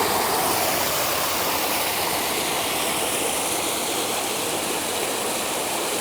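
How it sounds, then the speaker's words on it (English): Bent Run waterfall, a stepped cascade in Allegheny National Forest, pours with a loud, steady rushing roar of water that fills the whole stretch at close range, with no voices. "Bent Run Waterfall, or Cascades, more appropriately."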